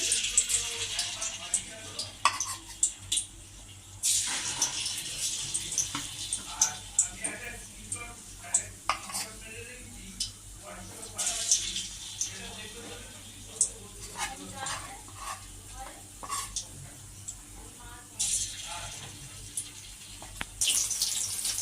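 The last paneer pieces fry in hot oil with a continuous close sizzling hiss, dotted with small crackles and pops that flare up and settle over about twenty seconds.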